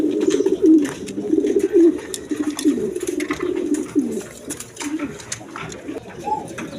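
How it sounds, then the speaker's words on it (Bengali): Racer pigeons, offered among other pigeon breeds for sale, coo close and loud in repeated throaty rolling phrases, one bird overlapping another. "এখানে এক প্যার রেশার কবুতর আছে দেখেন"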